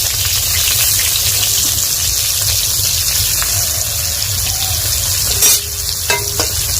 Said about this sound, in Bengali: এখন আমি সরষের তেল দিয়ে দিলাম, বেগুনগুলো দিয়ে দিব।